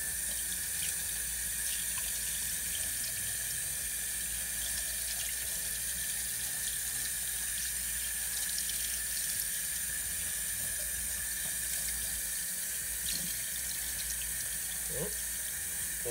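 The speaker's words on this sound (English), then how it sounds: "we're gonna want to wash the fish out" Tap water runs steadily into a sink while a rainbow trout is washed out, a constant close splashing stream with faint handling clatter now and then.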